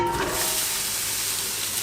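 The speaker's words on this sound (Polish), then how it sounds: "Ma nam się to smażyć i ma to być mieszane." Vegetables and mushrooms frying and being stirred in olive oil in a pot, a steady close sizzle with no talking.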